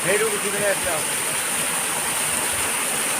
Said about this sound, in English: This is called the Palangsu waterfall.